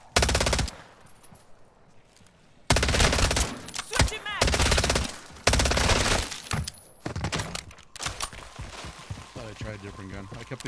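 Automated turret in Call of Duty Modern Warfare 3 Zombies firing bursts of gunfire in several loud stretches, mixed with game effects and voices talking over it.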